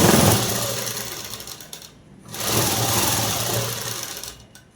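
Sewing machine stitching lining cloth onto the main fabric of a garment, a steady close mechanical whir that runs, pauses briefly in the middle, then resumes and slows at the end.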